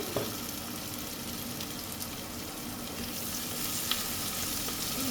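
Onions and other ingredients for white chicken curry sautéing in a pan, giving a steady, fairly faint sizzle throughout with an occasional light clink, no talking.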